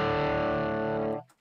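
An electric guitar chord rings through a DC distortion pedal, loud and thick with saturated sustain, then cuts off abruptly after about a second and a quarter, leaving a brief faint tail.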